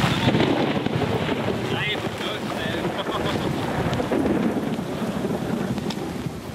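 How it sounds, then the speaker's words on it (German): A heavy nighttime thunderstorm at a hillside campsite in Romania: dense, steady rain roars with deep rumbling thunder and gusting wind buffeting the microphone, loud and continuous throughout. "das war das heftige Gewitter, das sich über uns zusammengebraut und durch die Nacht gewütet hat."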